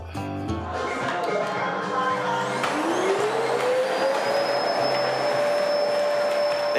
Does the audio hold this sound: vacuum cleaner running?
yes